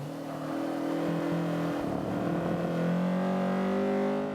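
A Honda Civic CRX Mugen engine at full throttle in Forza 5, a steady high revving drone with shifting pitch, loud and continuous with no talk.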